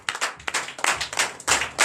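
Church congregation clapping in rhythmic acclamation during a Sunday worship service in Benin: sharp, closely miked hand claps in an uneven pulse of bursts, about a dozen in under two seconds.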